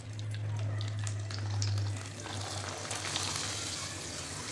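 Poha papads frying in hot oil, a steady close sizzle with a low hum beneath, alone without talk.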